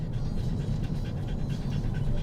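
A Belgian Malinois pants rapidly and steadily at close range, quick rhythmic breaths repeating throughout with no talking over them.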